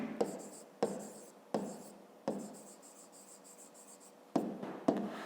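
A pen scratches out short handwritten words on paper while a fifth-grade geometry exercise labels angles. About seven separate strokes sound close and quiet, with gaps between them and no talking.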